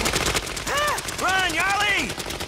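Rapid cartoon gunfire rattles in a dense volley, loud and close, overlapping with shouting voices throughout.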